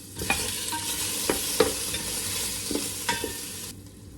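Spinach and tomato fry in a pan with a steady, close sizzle, broken by a few sharp stirring clatters and scrapes spread through the sizzle; no one speaks.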